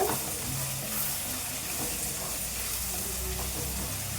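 Ground onion paste fries with potatoes in a pan, giving a steady broadband hiss and sizzle with faint stirring. The sound is close and continuous.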